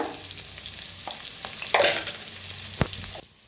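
Cumin, finely chopped onion and a pinch of asafoetida sizzle in a pan with a steady close frying hiss, broken by a few light clinks and scrapes of stirring, with no one speaking.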